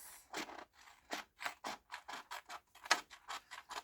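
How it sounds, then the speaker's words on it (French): Tiny scissors snip through a narrow strip of excess material in quick, close, crisp cuts, about a dozen irregular snips in a row, with no talking. "avec des tout petits ciseaux forcément c'est galère"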